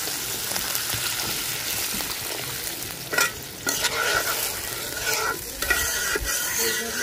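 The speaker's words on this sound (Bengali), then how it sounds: "এখন ঝোলের জন্য জল দিয়ে দিন।" Water poured into hot frying masala to make gravy for a koi fish kalia with orange, giving a steady loud sizzle, then bursts of hissing splashes and stirring scrapes midway, no talking.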